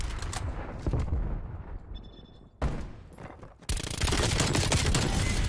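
Rapid bursts of OTS 9 gunfire in a Call of Duty: Black Ops multiplayer match, loud and dense, broken by short pauses before a long sustained volley at the end.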